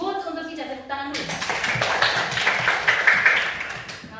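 After a short spoken phrase, a group of people at a training session breaks into clapping, with quick overlapping hand claps continuing steadily at close range.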